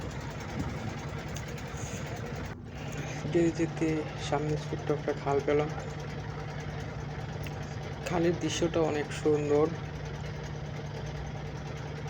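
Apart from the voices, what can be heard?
trawler boat engine running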